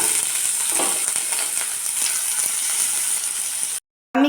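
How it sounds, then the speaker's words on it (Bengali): Potatoes frying in oil in a kadai, a loud close steady sizzle with light scraping stirs, cutting to a brief silence near the end before the sizzle resumes. "ওই একই কড়াইতে এবার আলু ভেজে নেব।"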